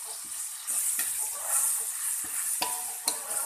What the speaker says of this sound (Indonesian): kita goreng bumbu-bumbu yang tadi sudah dihaluskan